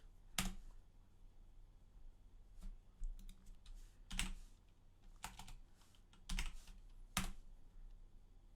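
Sparse keystrokes on a computer keyboard while working in a terminal, quiet and close, with scattered single clicks and short bursts separated by pauses.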